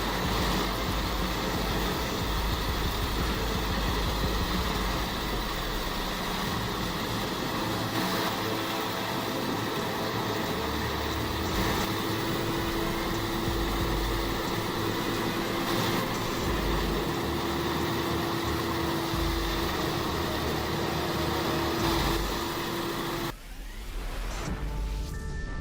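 A PTO-driven wood shredder drum spinning at 1000 RPM gives a steady, dense mechanical roar with a constant drone, then cuts off abruptly near the end.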